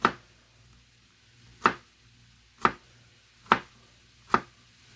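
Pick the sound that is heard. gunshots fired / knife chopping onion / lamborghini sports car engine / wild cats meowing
knife chopping onion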